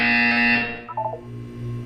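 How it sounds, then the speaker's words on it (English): A flat, steady buzzer from the Portal 2 test chamber, loud and rich in overtones, holds for about half a second and cuts off, followed by a brief quieter tonal blip over a low background hum. "You will hear a buzzer."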